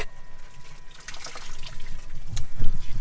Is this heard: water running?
yes